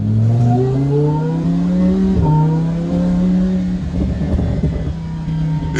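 A Lamborghini replica car accelerating hard, its engine note climbing steadily in pitch through a gear change, loud and close throughout with no talk.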